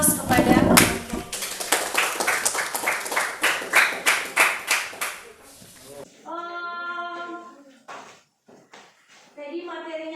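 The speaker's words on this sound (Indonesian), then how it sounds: "Oke, berikan aplaus kepada" A classroom audience claps for a student group's presentation, a dense burst of applause lasting several seconds before fading, then children's voices speaking.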